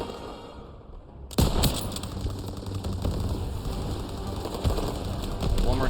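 Gunfire in the Call of Duty WWII video game bursts in abruptly after a quiet start, then continues as loud, dense shooting with sharp individual shot peaks over a busy battle backdrop.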